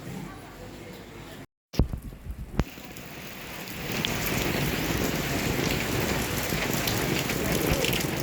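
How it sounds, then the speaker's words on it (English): Rain falling on Phi Phi Island, a few close clicks and a brief cut at first, then a steady downpour hissing on surfaces that grows heavier and stays loud. "Straight after the haircut, got caught in the rain."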